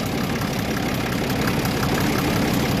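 A 1961 Case 930 diesel tractor engine idles close by in a dense, even rumble with a fast knocking pulse that holds steady throughout.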